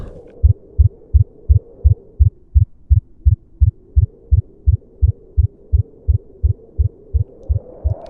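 Heartbeat sound effect in a horror story: a steady, loud, low thumping pulse of about twenty beats over eight seconds, each a deep throb repeating evenly over a faint hum, with no voices.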